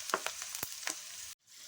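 Garlic frying in oil for a garlic chutney: a steady close sizzle with a few sharp stirring clicks and scrapes, ending in a brief cut to near silence.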